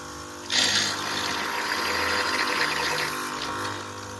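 Coffee machine pump spraying hot water during a test, a sudden steady hiss of spray starting abruptly over a low mechanical hum and holding evenly for several seconds.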